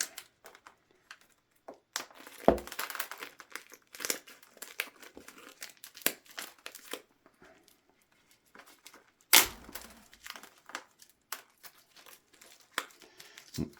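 A thin plastic bonsai pot being cut apart, giving close, scattered crinkling and cracking bursts with a couple of sharper snaps, with no voices.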